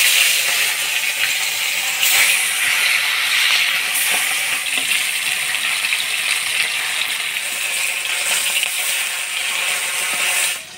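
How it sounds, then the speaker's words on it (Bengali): Fish spits and sizzles in hot oil in a heated wok with a loud, steady, dense crackle that holds unbroken throughout, then cuts off at the end. "মাছটা ভাজা হোক"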